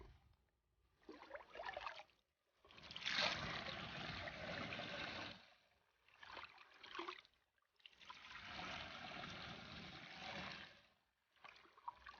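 River water gushes into a 60-liter sprayer in long steady bursts with short pauses between, a dense rushing splash with no talking.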